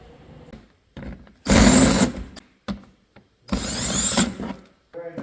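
A power tool removes exhaust fasteners on a Club Car DS golf cart. It gives two loud, sustained whirring bursts, each under a second long, close up, with quieter clanks and shuffling between them.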